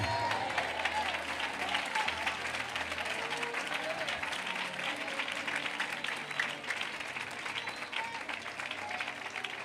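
Audience applause at a Malayalam Christian church gathering, a sustained dense clapping from a crowd that continues steadily for several seconds.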